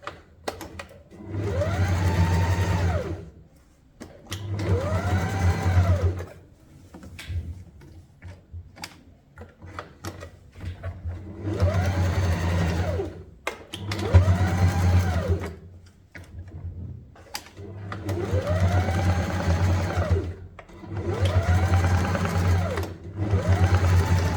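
Sewing machine darning worn jeans, running in repeated bursts of a couple of seconds each with brief pauses between, a steady mechanical whir and rapid needle ticking, close and clear.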